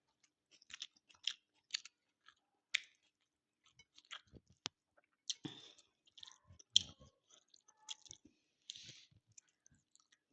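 A person eats hot food by hand, with repeated close, moist chewing and squishing bites in short irregular bursts and brief pauses between them.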